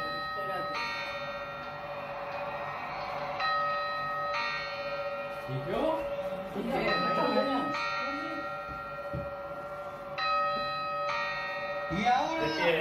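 A carillon rings the quarter-hour chimes before midnight on New Year's Eve, a chiming sequence of sustained tones in phrases, with people talking and exclaiming nearby over the ringing.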